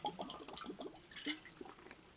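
Water bubbling and gurgling like a bong, a quiet burst of irregular wet pops and drips over about two seconds, no voices.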